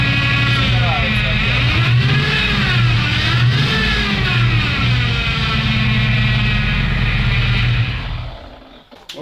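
Engine of a Soviet ZIL-131 truck revs hard as the gas pedal is pressed, a steady loud roar that rises and falls in pitch before dropping off near the end, with someone speaking over it.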